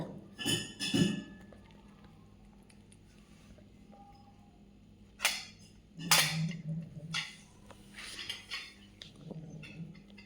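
Cats eat chicken off a metal spoon, with clinking metallic knocks and scrapes in several bursts between quieter stretches.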